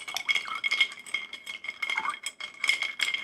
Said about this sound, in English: You gotta stir it up.